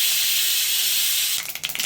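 Cumin seeds hit hot sesame oil just after mustard seeds have popped, for a tomato chutney. A loud, steady close sizzle turns into sharper crackling and spitting near the end.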